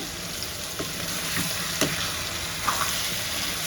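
Green chili paste and garlic frying in oil, making a steady close sizzle with a few light stirring taps and scrapes.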